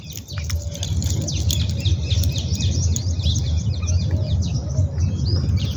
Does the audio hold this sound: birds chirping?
yes